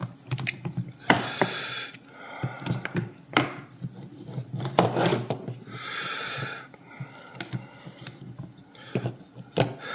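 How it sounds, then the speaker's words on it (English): A small pocket knife cuts off a small piece from a typewriter's type rest, making close, uneven scraping and rubbing strokes with short pauses between bursts. "I'm going to cut off this little addition here, just to make it easier to handle. A little pocket knife."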